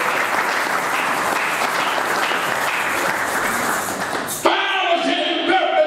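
A church congregation claps together in loud, dense applause for about four seconds, then it stops abruptly and a different ringing sound takes over.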